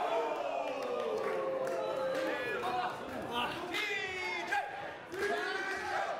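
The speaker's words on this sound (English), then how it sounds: "weird hearing my namesake being chanted by the crowd" A professional wrestling crowd chanting a wrestler's name during a match: a loud, rhythmic mass of voices with cheering, heard under a commentator talking throughout.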